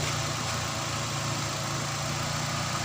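A car engine idles steadily after being started with a 4-in-1 jump starter with compressor, a continuous low rumbling hum at even loudness, with no talk over it.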